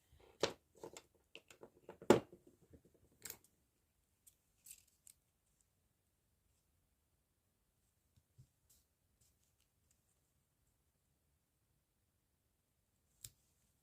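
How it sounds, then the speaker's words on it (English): A book page is torn along its edge by hand: a handful of short, crisp paper rips cluster in the first few seconds, then near silence with a few faint isolated clicks. "This one's got a torn edge, so I'm just going to tear the other edge."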